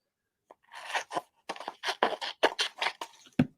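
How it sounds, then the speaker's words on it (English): Scissors snip through paper during fussy cutting for a papercraft project, a quick run of crisp, crunchy cuts in short bursts, close and fairly loud with no talking. "Okay, I don't like the way those scissors sound."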